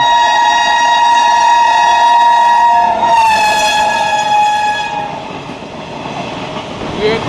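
A train with a parcel van passes through Sonipat Junction, its horn sounding a loud sustained blast that wavers and fades, followed by the rumble of rolling wagons.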